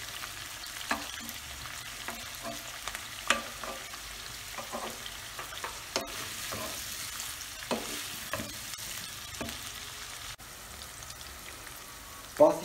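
Chopped onions sizzle steadily in a pan for a layered onion and potato moussaka, with repeated clicking scrapes of a spoon stirring throughout, close and moderately loud, without talk.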